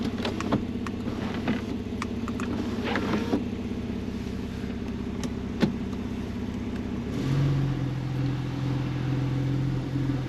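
Porsche 911 991.2 GTS with a 450 hp engine and PDK automatic gearbox setting off on a road trip near Rodez, Aveyron: a steady engine drone with a few clicks, and the tone shifts lower and fuller near the end as the car pulls away.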